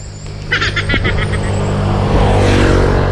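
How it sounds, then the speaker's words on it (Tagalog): A motorcycle passes on a quiet mountain road near Infanta, its engine swelling loud and close as it goes by, with bird chirps briefly audible near the start. "Ay hindi na, may motor na dumaan eh."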